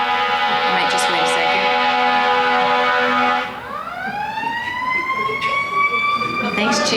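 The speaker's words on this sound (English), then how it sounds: "Firefighters love those sirens," A fire truck siren wailing outside during a press conference, a loud steady tone that drops and then climbs again as the truck passes, with faint voices in the room beneath it.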